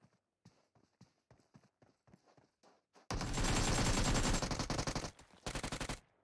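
PUBG Mobile gunfire during a pro league match: a string of sharp separate shots, then a long sustained burst of loud automatic fire, a short pause and another rapid burst.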